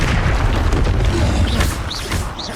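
Confringo explosion spell cast in Hogwarts Legacy, a dense continuous blast of booming, crackling game effects with low rumble, loud and sustained throughout without speech.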